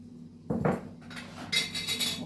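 A spoon stirs a spice mixture with oil and ghee in a metal pot, close scraping and clinking strokes in short bursts, no voices.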